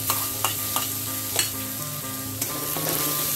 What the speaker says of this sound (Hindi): अब हम डाल देते हैं ये लहसुन अदरक का पेस्ट